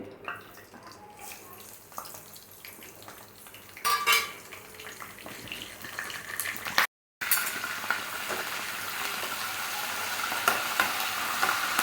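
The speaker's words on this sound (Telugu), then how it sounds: "ఇప్పుడు ప్యాన్ వేడెక్కిన తర్వాత మళ్ళీ పోపులు వేసుకోవాలండి ఆయిల్ వేసుకున్నాను" Hot oil sizzles in a pan as tempering spices fry while a utensil clinks and stirs, the frying growing louder and brighter after a short break.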